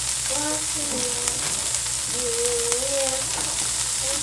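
Onions frying in a pan on the stove for a Haitian smoked herring pizza, a steady loud sizzle running throughout, with a brief voice-like tonal sound in the middle.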